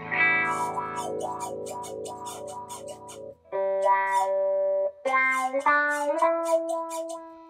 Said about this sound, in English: So if I have a wah pedal on,